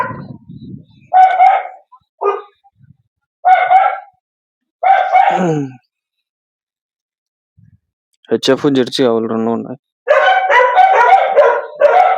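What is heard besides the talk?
dogs barking inside a cattle farm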